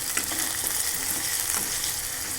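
Chopped tomato hits hot oil in a pan with potato and spinach, giving a steady, close sizzle broken by a few scraping stirs, and no one speaks.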